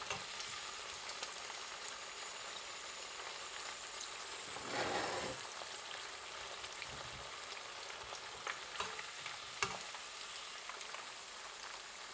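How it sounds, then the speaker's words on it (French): Steady crackling sizzle of shrimp deep frying a second time in hot oil, with a brief louder bubbling surge midway, close and continuous. "Nos crevettes ont refroidi, on va pouvoir les refrire une deuxième fois."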